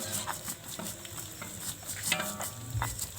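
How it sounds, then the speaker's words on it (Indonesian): Shallots fry in a pan over a village wood-fired stove, a soft close sizzle broken by scattered stirring scrapes and light clicks, with no talk. "Bawang merahnya itu lagi digoreng"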